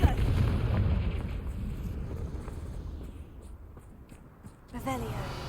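A Confringo blasting curse from the Hogwarts Legacy video game detonates in a heavy, rumbling boom that slowly fades, followed by a sharper burst near the end, with a voice heard alongside.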